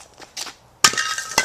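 A porcelain object is smashed and breaks into two pieces, with a soft tap followed by a sharp, bright crack and a second crisp clink close by.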